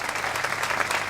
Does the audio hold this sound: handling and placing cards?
no